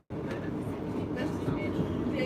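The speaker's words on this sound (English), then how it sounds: "Big screech off the train." A train rumbling steadily on the rails as it nears a tunnel, a dense low roar with faint high screeching tones on top, continuous and fairly loud after an abrupt start.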